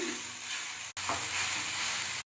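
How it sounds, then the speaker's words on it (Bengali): Grated cauliflower dry-frying in a pan while being stirred, giving a steady close sizzle with brief scraping stirs, broken by two short silent gaps. "এবার এগুলো শুকনো লেড়ে লেড়ে ভেজে নিই"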